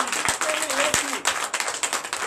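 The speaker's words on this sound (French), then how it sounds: "Donnez encore l'acclamation à Jésus." A church congregation applauding during a Sunday worship service in Comè, Benin: dense, steady clapping from many hands, with voices and a faint tone running through it.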